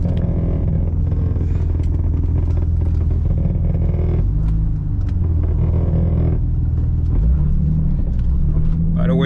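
A Nissan 350Z cruises through a park, its engine a steady low rumble with a continuous drone throughout and small shifts in pitch as it drives.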